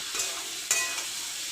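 A spiced potato mixture with tomato and ginger-garlic paste sautés in a pan, a soft steady sizzle broken by two brief scraping stirs, near and alone.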